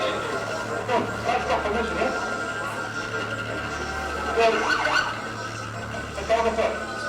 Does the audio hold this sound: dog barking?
no